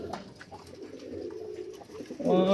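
Racing pigeons coo softly at their loft, low throaty calls repeating in a quiet outdoor setting, growing louder and more layered at the end.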